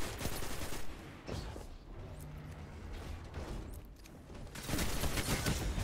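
Gunfire in an online shooter video game, dense bursts of rapid shots and impacts that ease in the middle and return louder at the end, with no clear talk.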